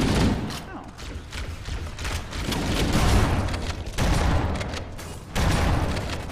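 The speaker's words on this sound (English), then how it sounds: "Shotgun works real nice against this." Shotgun fire in the video game Halo: Combat Evolved, heavy booming blasts over a dense, noisy battle mix with rumbling and continuous action, several loud shots in sequence.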